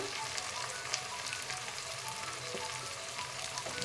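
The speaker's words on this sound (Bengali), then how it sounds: "ভালো করে মশলাটা ভেজে নেব" Ground spices, turmeric and chilli powder among them, fry in a pan for chicken curry, giving a steady, close hiss and sizzle with faint crackles and stirring scrapes and no voices.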